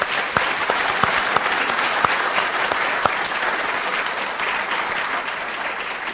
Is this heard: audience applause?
yes